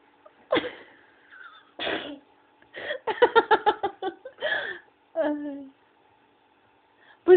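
A small child with a runny nose sneezes indoors in a few sharp, close bursts, separated by quiet gaps, with an adult voice speaking softly between them.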